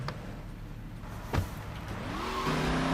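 A classic car decorated as a number 27 race car in GTA Vice City thumps as a door shuts, then its engine hums and rises in pitch as it pulls away.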